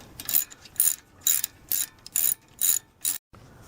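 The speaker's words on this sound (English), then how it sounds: "use your 13mm socket, and tighten this one back in" Seven quick bursts of ratcheting clicks from a 13mm socket ratchet tightening an Audi Q7 brake bolt, each burst short and close, with brief quiet gaps between them and an abrupt stop at the end.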